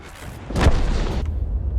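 A tank gun fires once in World of Tanks, a single heavy boom with a low rumbling tail that stays loud and sustained after the blast, with no talking.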